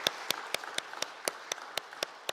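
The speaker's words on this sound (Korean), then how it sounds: "사역하실 때 힘내시라고 이런 박수를 치도록 하겠습니다" A small church congregation gives a sparse, rhythmic round of applause at a Sunday service, about ten distinct hand claps in an even beat, fairly quiet and a little distant in a calm room.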